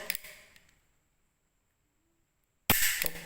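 A Smith & Wesson 9mm pistol gives two sharp, close snaps, one at the start and one near the end, separated by near silence.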